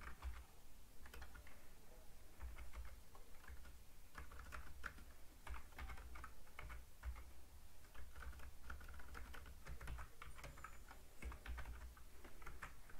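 Soft, steady keystrokes clatter on a computer keyboard while HTML is typed for a fashion-show website. The clicking is faint and continuous, with small bursts and pauses, and no one speaks.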